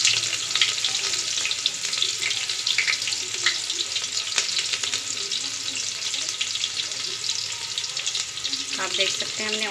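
Onions and cumin seeds fry in hot oil, giving a loud, continuous sizzle with crackles and pops throughout, and occasional stirring in the pan.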